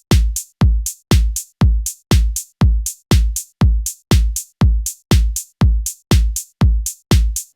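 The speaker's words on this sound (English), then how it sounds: "So now we have created a simple 4/4 house beat" A simple 4/4 house drum beat repeats evenly, with a punchy kick on each beat, a snare and hi-hats on every half beat, loud and clean with nothing else playing.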